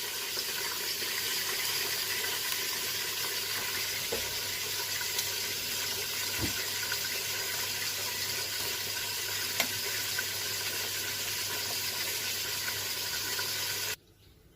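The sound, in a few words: draining water from boiled rice for mutton biryani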